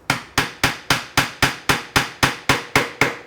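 A mallet taps a chisel into a half-blind dovetail socket in wood, with twelve sharp, evenly spaced knocks at a steady rhythm, close and loud, with no voices.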